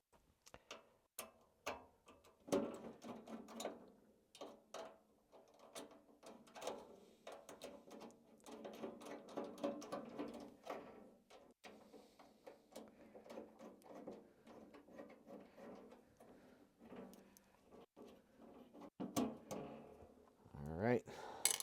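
Quiet, irregular metallic clicks and scrapes come from a screwdriver backing out two case screws on an old IBM 5150 computer, faint and close-up, with soft talking in between.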